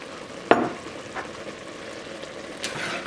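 Half a cup of wine hits a sizzling mushroom soup base in a pan, giving a sharp burst of hiss that settles into a steady low sizzle, with a brief stir clatter and a faint rise of bubbling near the end.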